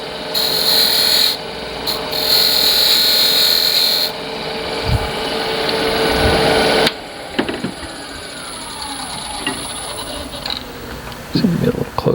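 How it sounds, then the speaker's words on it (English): Square-end bedan scraping tool cutting wooden threads by hand on a lathe, a steady continuous rasping scrape with a high whine, loud and close, easing off partway through, then quieter rubbing and a few knocks. "This is basically just a bedan with a square end on it. It's also a scraping tool."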